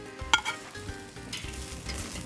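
Grilled beef sliders sizzle quietly on a grill while one sharp metallic clink of a utensil rings out and softer scraping follows as they are lifted off.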